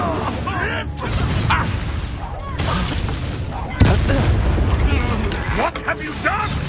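An Incendio fire spell cast in Hogwarts Legacy, loud whooshing bursts and booming blasts amid combat noise, layered under shouted talk.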